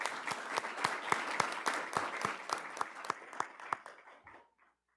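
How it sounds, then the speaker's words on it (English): An audience at a school board meeting claps in a brisk round, with distinct overlapping handclaps that thin out and fade to silence near the end. "May we have another round of applause, please?"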